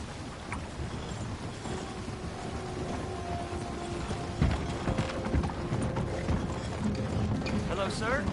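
Hooves clip-clop steadily as a horse gallops in a PS4 video game, a continuous rhythmic beat over game ambience, with voices talking over it throughout.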